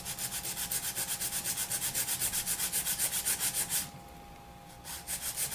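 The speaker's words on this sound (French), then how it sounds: "Alors pour la mise en forme, je commence par limer mes parallèles." Resin nail edges being shaped with a nail file, a close, rhythmic rasping of quick even back-and-forth strokes, pausing briefly before resuming.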